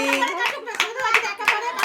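Rhythmic handclapping at a child's birthday party, with five or so evenly spaced, close claps beating under continuous talking and children's voices.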